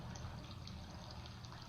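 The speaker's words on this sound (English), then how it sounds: "We have a water sound." Steady running water from a calm meditation setting, a continuous soft wash with a gentle trickle, alone with no voices.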